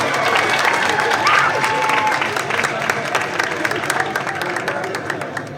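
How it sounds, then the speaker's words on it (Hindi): Loud, sustained applause with cheering from a crowd at a political election rally in Safidon, continuous and dense throughout, with scattered claps standing out as it slowly eases. "जोरदार ताली बजाओ।"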